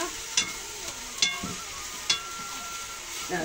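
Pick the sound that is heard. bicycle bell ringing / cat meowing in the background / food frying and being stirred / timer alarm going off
food frying and being stirred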